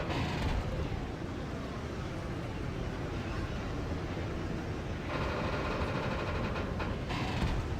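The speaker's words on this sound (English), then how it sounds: "Definitely sounds like we're on the train again." Steady train ambience in the game Necromunda: Hired Gun, a continuous loud rumble and rattle of rail cars with a brighter clattering layer joining after a few seconds, no voices.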